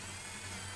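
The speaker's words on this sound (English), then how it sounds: "One here, you can drill down and see if you're going to hit." Power drill boring through the wooden wall of an enclosed trailer while installing E-Track, a steady close whirring hum held for under a second with no talk.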